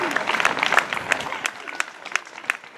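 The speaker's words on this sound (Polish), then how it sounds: "A od Państwa oklaski" An audience claps after a vocal recital, with dense applause at first that thins into scattered, uneven claps toward the end.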